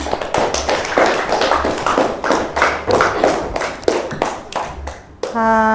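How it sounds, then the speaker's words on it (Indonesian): A classroom group claps for group 4 in a rhythmic, rather close round of clapping with distinct individual hand strikes. The clapping stops abruptly near the end, followed by a brief tonal sound. "tepuk tangan dulu untuk kelompok 4"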